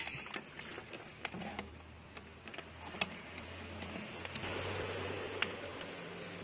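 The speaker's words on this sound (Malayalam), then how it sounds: "ഓക്കെ, ഇപ്പോൾ ഫാൻ കറങ്ങുന്നുണ്ട്." A DIY bubble-making machine runs on a wall fan motor, producing a steady, quiet whir with scattered small ticking clicks throughout.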